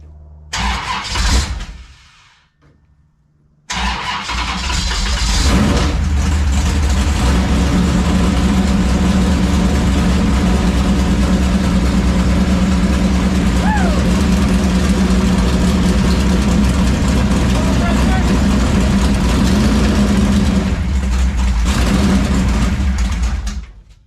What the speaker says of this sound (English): Go ahead and turn the ignition switch on